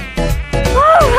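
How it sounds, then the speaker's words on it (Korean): A thin, whining buzz rises and falls in pitch, close and loud, like a small insect hovering near the ear. "모기가 나만 따라다니네"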